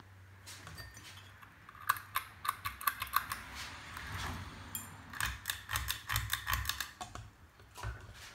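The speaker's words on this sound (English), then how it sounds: "Still makes that obnoxious clicking noise too" An IBM electric typewriter clicking in a home workstation, sharp keystrokes coming in irregular close-up bursts with short pauses between runs, alone without talk.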